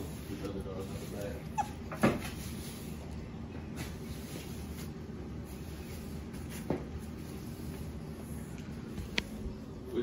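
Exotic bully puppies whimper and yip in short, scattered bursts over a steady low background hum, with a few sharper cries standing out among the faint continuous whining.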